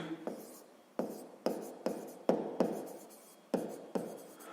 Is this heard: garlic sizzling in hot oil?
no